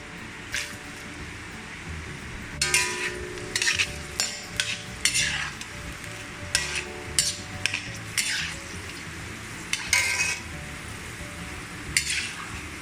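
Dry grapes fry in oil in a pan as part of a Mangalorean postpartum medicine preparation. A soft sizzle runs under repeated close scraping and stirring strokes of a utensil against the pan, with no talking.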